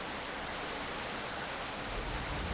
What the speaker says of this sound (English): Honestly, who doesn't like being out in the rain?